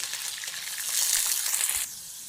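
Paneer pieces, 150 grams, fry in hot oil toward a light brown, giving a bright, steady sizzle that swells louder midway, then drops to a softer hiss near the end; no one speaks.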